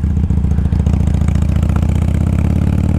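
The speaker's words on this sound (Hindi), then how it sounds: "और ये है अपनी नई नवेली कावासाकी Z900, जो कि काफ़ी प्यारी दिखती है, और आवाज़ इसकी क्या ज़बरदस्त आती है निकल के" A new Kawasaki Z900 motorcycle idles close by with a steady, throbbing, mechanical rumble and a faint clattery edge, holding an even rhythm throughout.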